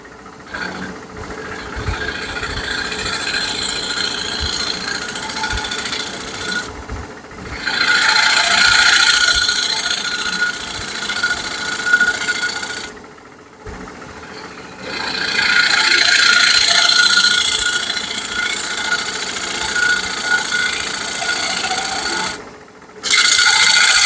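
Shear scraping a wooden bead with a woodturning tool, a steady rasping, rubbing scrape against the spinning wood, rising and falling in long passes with brief pauses between strokes.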